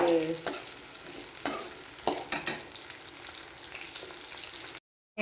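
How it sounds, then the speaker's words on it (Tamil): Chutney ingredients frying in a pan and being stirred, with a steady sizzle broken by a few scraping stirs, close and moderately loud, ending in a brief silence. "நம்ம இதை கிளறி விட்டுக்கலாம். ஸோ இது நல்லா கோல்டன் கலரில் வரட்டும்."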